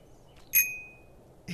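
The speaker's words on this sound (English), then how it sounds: "Oh, there's another little bell." A single clear little bell ding rings in Untitled Goose Game, bright and close, with a ringing tail that fades over about half a second before a faint rustle.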